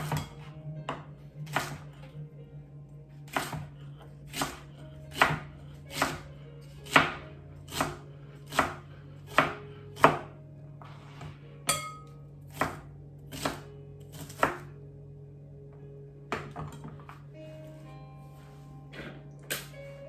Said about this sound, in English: I'm gonna chop my fennel